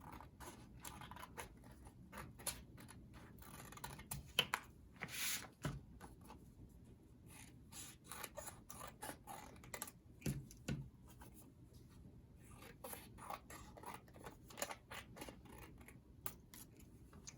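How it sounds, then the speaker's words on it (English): Scissors snip through paper along dotted lines for a preschool craft, a steady run of close, quiet cuts and paper rustles with no talking. "We're going to need to cut out along the dotted lines."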